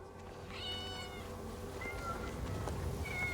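Cat meows in Assassin's Creed: a few clear, fairly close meows in a row, each a short rising and falling cry, heard over a steady low game ambience.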